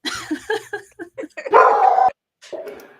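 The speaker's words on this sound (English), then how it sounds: "no, my dogs are just barking, so I cannot read it right now." Several household dogs bark and yip in short bursts, with one longer whining bark in the middle, fairly close and loud, while a person talks nearby.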